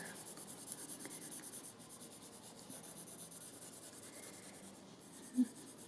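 A pencil scribbles zigzags on paper during a drawing session, a soft continuous scratchy rubbing that pulses with the back-and-forth strokes, close but faint.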